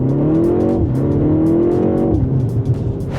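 A 2025 BMW M135 with a dual-clutch transmission accelerating hard, engine note climbing then dropping sharply at a quick upshift around the middle, followed by another rising pull, loud and close.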